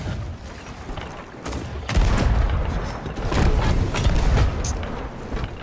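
Cannons fire in the pirate game Sea of Thieves: loud, heavy booms come one after another over a dense, rumbling battle din, with no break between the blasts.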